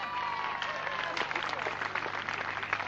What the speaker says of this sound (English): which give him a round of applause, Vic Brooks.